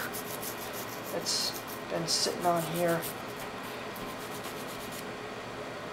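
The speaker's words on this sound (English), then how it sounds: "Kind of dip the brush in, and you just kind of loosen up some of that gunk" A brush scrubs old gunk off the trigger housing of a Mossberg 590A1 shotgun. The short rubbing strokes stay close and fairly quiet, and someone talks over them.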